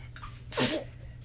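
A single sharp sneeze bursts out close by, a short loud breathy blast, amid quiet indoor room tone during a watercolor painting session.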